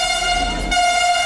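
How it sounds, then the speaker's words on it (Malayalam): A metro train at a station, heard as a steady, sustained horn-like tone with a low rumble of the train underneath, continuous and fairly loud across the short stretch. "നമ്മളിപ്പോൾ മെട്രോ വരും, മെട്രോ കയറാൻ വേണ്ടി പോവുക"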